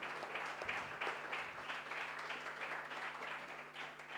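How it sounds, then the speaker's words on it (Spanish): A church congregation applauds during a service, a steady, fairly faint crowd clapping that holds throughout with gently swelling and easing intensity and no voices over it. "le damos un aplauso también al Señor por esto."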